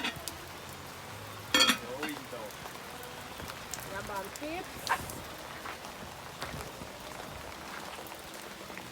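Steady rain falling and pattering on surfaces outdoors at a cooking setup, with someone talking over it and a few sharp knocks.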